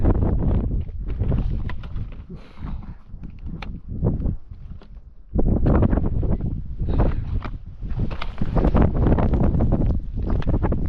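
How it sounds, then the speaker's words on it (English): Strong wind gusting across a mountain ridge during a ski ascent of Mt. Yale, roaring loudly into the microphone in long buffeting surges with a brief lull midway, no talk. "Usually it's just the wind."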